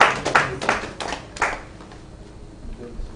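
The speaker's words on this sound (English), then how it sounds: "Please, a round of applause for her." Scattered audience clapping after an introduction, a few bursts of hand claps in the opening seconds that quickly die away into quiet room tone.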